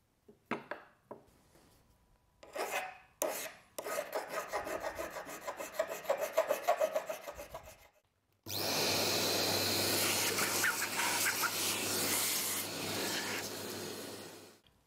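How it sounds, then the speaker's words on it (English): Small hand file rasping a burr off a metal woodturning tool part: a few short strokes, then a steady run of scraping strokes, close and fairly loud, ending in a dense, continuous grinding rasp with no talking. "I'm going to take a little file to remove that burr before I reassemble it."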